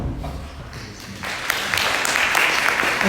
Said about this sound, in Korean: 최경환 교수님 박수 부탁드리겠습니다